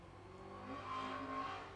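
A Mark 1 Ford Escort races at the Golspie sprint on the Littleferry layout, its engine note rising and falling as it pushes through corners, heard faintly at a distance.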